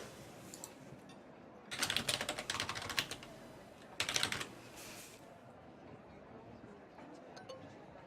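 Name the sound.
typing on a slow computer keyboard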